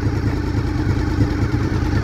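A refurbished 1995 Honda VFR750F RC36-2 motorcycle with an aftermarket exhaust idles close by, its engine producing a loud, steady throbbing rumble with a slight clatter throughout.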